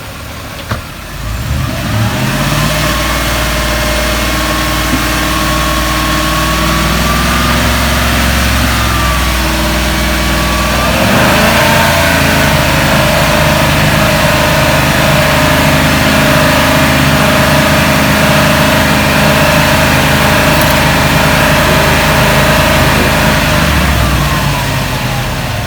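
BMW 330ci engine with a newly installed battery, idling steadily with a low, continuous hum and a rev rising around the midpoint, then holding at a higher, louder drone for the rest of the clip; no talking.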